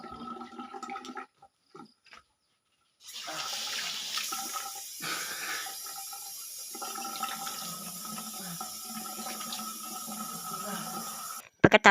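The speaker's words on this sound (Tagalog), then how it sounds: "lumabas na ako sa kwarto papunta sa lababo para hugasan ang dugo sa ilong ko" Water runs steadily from a bathroom sink tap while blood is washed off a nose. A quiet pause comes first, then the flow is turned on and holds as a close, constant hiss until it stops abruptly.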